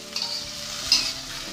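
Tofu, green beans and egg stirred in a frying pan, with a soft, steady sizzle and faint scraping of the utensil, plus two brief louder scrapes of the pan, close by and without voices.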